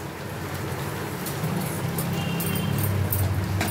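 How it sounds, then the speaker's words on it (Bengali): Water boils in a cooking pot, a dense, steady bubbling roar that grows slightly louder partway through, close and continuous with no talk. "জলটা ফুটতে থাকছে"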